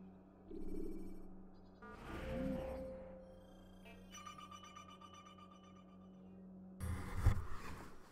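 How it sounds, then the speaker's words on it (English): A telephone rings in short repeated electronic bursts against a quiet background, with a brief louder thump near the end. "Darn phone's going off."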